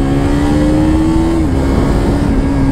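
A KTM RC200 motorcycle engine holds a loud, steady rev while cornering, its tone dipping slightly midway, heard close and up front with no talking.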